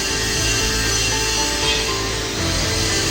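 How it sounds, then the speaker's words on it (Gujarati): A metal drum mounted on a lathe for cutting in a welding workshop, giving a steady, loud grinding scrape with a constant machine drone and no speech. "ડ્રમ ચડાવ્યું છે કટ કરવા માટે"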